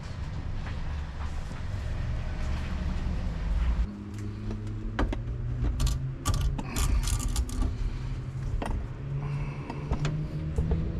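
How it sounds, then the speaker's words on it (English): Ratchet clicking and mechanical rattling as bolts are tightened to mount a turbo onto an Acura Integra engine, a 270k-mile daily driver, in steady close-up bursts over a continuous low background rumble. "I'm gonna kind of just guess and then tighten these bolts up"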